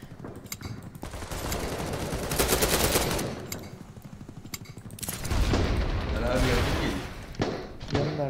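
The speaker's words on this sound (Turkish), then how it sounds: "her yerden bir mermi geliyor çıldıracağım ben" Rapid gunfire from the shooter game BattleBit Remastered, dense automatic bursts and shots filling most of the clip, loud and close, with players talking over it.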